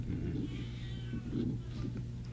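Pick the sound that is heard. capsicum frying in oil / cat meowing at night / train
cat meowing at night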